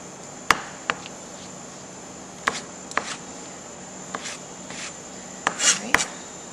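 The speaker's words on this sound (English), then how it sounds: "Sometimes I find it's a little bit easier to cut strawberries when they're slightly frozen for the yogurt." A knife chops slightly frozen strawberries on a board with sharp, irregular taps, about ten crisp hits spaced unevenly and heard up close.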